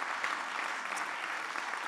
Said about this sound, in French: je voudrais quelques applaudissements supplémentaires pour Casabio